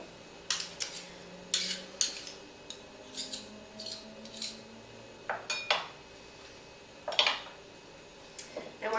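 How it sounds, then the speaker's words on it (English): A fork mixing whipped Philadelphia cream cheese with gorgonzola in a bowl, a series of irregular clinks and scrapes of metal against the dish, close and fairly quiet, a faint hum underneath. "we're going to mix this together just with a fork"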